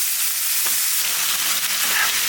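Pieces of pointed gourd (potol) fry lightly in a pan, giving a steady, close hiss of oil and sizzle throughout, with faint stirring scrapes and no talk.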